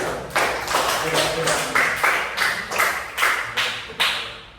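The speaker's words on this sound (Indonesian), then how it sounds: "Tepuk tangan" A short burst of applause from students in a classroom lesson, many hands clapping in an uneven rhythm, fairly close, with a few distinct slaps standing out.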